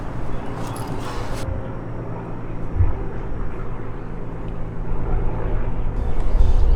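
A low, steady rumble of helicopters flying overhead, droning on continuously and slowly growing louder toward the end, heard outdoors with faint background noise and no talk.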